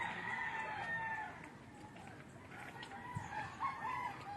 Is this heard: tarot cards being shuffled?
no